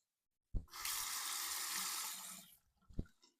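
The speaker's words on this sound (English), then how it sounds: "Temper the razor under the hot water." Hot water runs from a tap over a Parker SoloEdge magnetic single-edge razor. There is a steady, hissing stream for about two seconds, with a click at the start and a splash or knock at the end.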